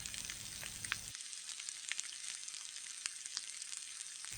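Potato french fries deep frying in oil over medium heat, a faint, steady bubbling sizzle with scattered light pops and crackles, heard alone without talk.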